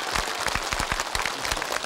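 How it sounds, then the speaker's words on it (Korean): Steady applause from a TV game-show studio audience on the Korean KBS show Family Entertainment Center, a dense patter of many hands clapping at once, fairly soft and continuous. "박수 한번 크게 보내주세요."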